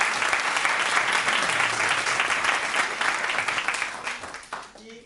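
Applause from a choir concert audience for accompanist Anna Serret, dense steady clapping from a crowd that holds strong for several seconds, then thins out and fades toward the end.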